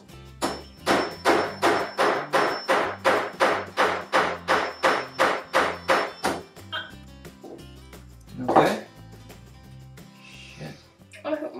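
Steady metallic hammer strikes setting rivets into a costume bodice, about sixteen evenly spaced blows, close and loud, followed by a few scattered knocks and a brief rustle.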